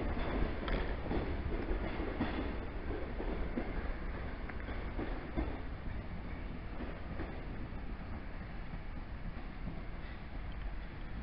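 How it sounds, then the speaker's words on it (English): A train at Exeter St Davids station, a continuous loud rumble with clickety-clack and rolling wagon noise holding steady throughout, no voices over it. "Right, the train is in here."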